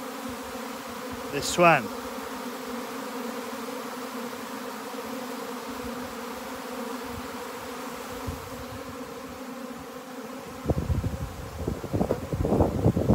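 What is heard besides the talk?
swarm of honey bees buzzing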